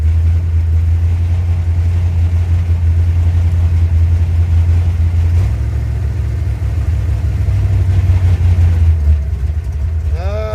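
A car engine fitted with an Edelbrock 1405 carburetor idles steadily with the choke fully open, a loud continuous low rumble showing a slight surging rise and fall in pitch, without any talk.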